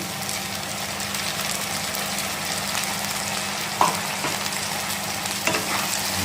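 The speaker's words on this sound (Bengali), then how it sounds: "পেস্টটা মশলাটাকে ভালো করে একবার কষিয়ে নেব।" Spice paste for a rohu fish curry with potato and eggplant is sautéed in a pan, giving a steady low sizzle with a couple of spoon clinks against the pan, close and even, with no talking.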